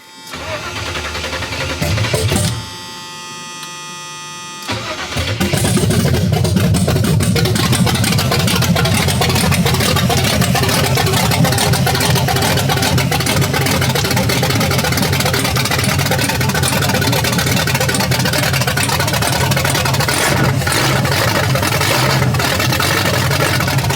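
A 1978 Chevrolet Malibu Classic engine cranks and starts after a brief pause, then idles steadily and loudly with cooling fans running, close to the car.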